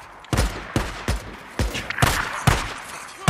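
Shotgun blasts in the Days Gone game, six heavy booming shots in steady succession about half a second apart, loud and close with no talk.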